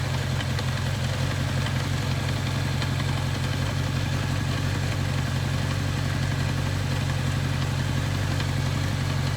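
A 1983 Kawasaki KZ750 Spectre motorcycle engine runs steadily and loudly up close during carburetor tuning, with a deep, even idle rumble and mechanical clatter, varying only slightly in revs throughout.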